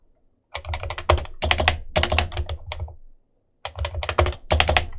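Close, brisk typing of code on a computer keyboard, two bursts of rapid key clacks separated by a short pause, with heavier thumps like the Enter key among them.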